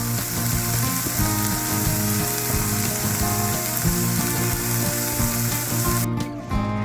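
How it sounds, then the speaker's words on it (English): Garlic and onions fry in a hot pan while greens wait to be added, giving a loud, steady sizzle that crackles continuously close up, with no talking over it. "Garlic and onions are almost done, and then we'll put this straight into the greens. Hear that sizzle?"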